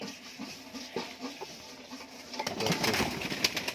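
Teddy pigeons in a pigeon loft coo softly in several low calls, with scattered rustling and a busier burst of fluttering and cooing near the end.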